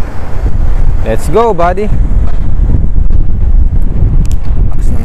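Strong wind buffets the microphone in a constant low roar near a bike lane in Qatar, with a man's brief speech in Tagalog heard over it.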